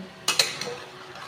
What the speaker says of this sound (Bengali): ভালো করে মিশিয়ে মিশিয়ে ভালো করে কষিয়ে নেবেন।